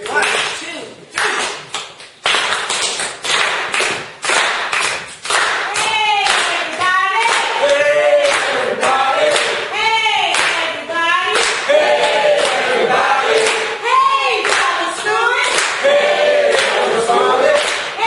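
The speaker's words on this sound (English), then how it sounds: "Okay. Clap. 2, 3." A group claps hands together on a count, loud and close, with rhythmic bursts of claps mixed with a leader's voice and people talking over them.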